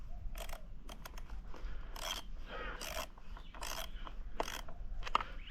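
Tools tighten bolts on a 2014 Yamaha TTR110 dirt bike during service, with a series of short ratcheting clicks and bursts of scraping separated by quiet gaps, close and fairly faint.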